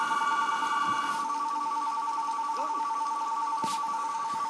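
Phone ringing in The Sims game: a steady electronic double-tone ring holding through the clip, moderately loud, with a brief overlapping clink and faint background sounds.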